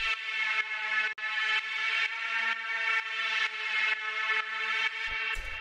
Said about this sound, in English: After that, we have this drone,